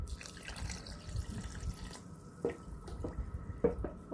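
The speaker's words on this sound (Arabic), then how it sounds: "وبنحط كباية المي،" A cup of water is poured into chocolate cake batter holding sugar and powdered milk, a quiet splashing trickle with a few distinct drips and plops, close by.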